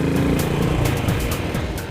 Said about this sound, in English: Royal Enfield has rebored the existing 500cc UCE engine to provide 535cc and slightly more power